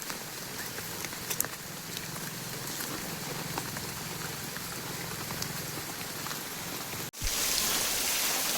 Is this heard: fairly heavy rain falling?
yes